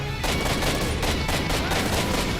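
Rapid automatic gunfire rattles without pause in the video game STALKER, a dense loud burst of shots running through the whole stretch.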